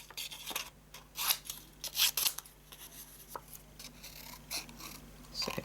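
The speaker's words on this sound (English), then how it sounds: "now I'm going to fussy cut this out" Small scissors fussy cut a stamped paper card piece with a border, giving close, crisp snips in uneven bursts, some louder double cuts, interspersed with faint paper rustling and no speech.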